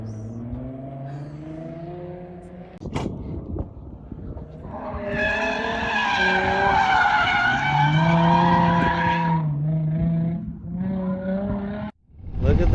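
A Nissan 350Z drift car slides at Apple Valley Speedway, its tires skidding and squealing in a long loud screech over the revving engine, with a sharp bang early on and voices shouting nearby.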